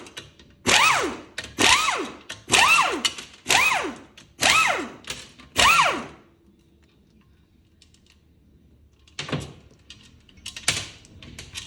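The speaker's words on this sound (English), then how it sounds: "All I'm doing is removing all these bolts." A ratchet works loose the 14mm bell housing bolts on a 2014 Nissan Altima CVT transmission, making six evenly spaced squealing sweeps up close, followed by a quiet stretch and a few faint clicks.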